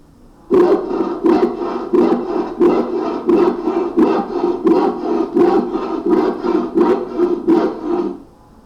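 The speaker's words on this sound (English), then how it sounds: "The saw cutting wood for this sound." A hand saw rasps steadily through wood, regular back-and-forth strokes about two per second, close and loud, with no voices.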